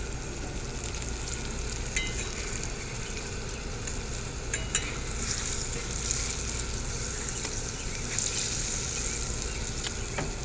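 Green tomatoes frying in a pan on a Coleman camp stove outdoors, a steady close sizzle with occasional stirring clinks and scrapes throughout.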